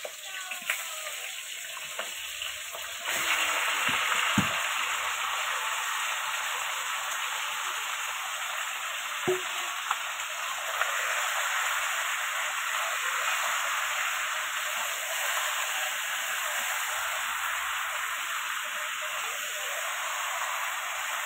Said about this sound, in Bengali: কড়াইতে তেল গরম হয়ে গেছে। এবার আমি চিকেনটা দিয়ে দিচ্ছি।